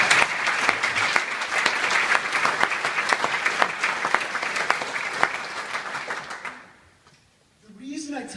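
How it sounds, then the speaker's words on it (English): Audience applause fills the hall as a steady, dense clapping that holds for several seconds, then fades out abruptly into near silence before faint room noise returns. "This is usually where I get a round of applause."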